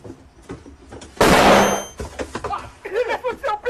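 A flashbang grenade goes off in a game, a loud, sharp bang with a hissing ring that lasts about a second, followed by ongoing talk.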